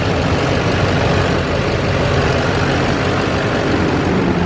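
An LMM Duramax diesel truck engine idles right after shop work, a loud, steady low rumble that stays even and unbroken close by.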